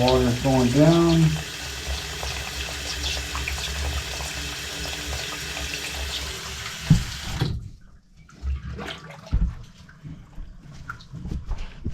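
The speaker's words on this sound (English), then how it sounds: "the water's going down" Water swirling down a sink drain into a whirlpool, gurgling and rushing steadily at close range before thinning out to sporadic slurps and drips as the basin empties.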